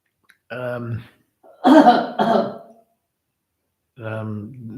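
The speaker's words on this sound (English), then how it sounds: "we've got coughing in the background" A few harsh coughs sound close by, a short cluster of two or three bursts, between stretches of talking.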